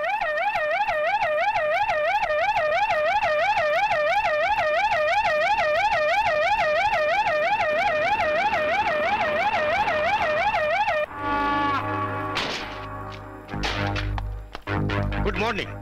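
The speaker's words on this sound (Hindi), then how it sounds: "फौरन एम्बुलेंस बुलाओ।" An ambulance siren wails in a steady rising-and-falling cycle for about eleven seconds, loud and close, then cuts off into bursts of other noise and commotion.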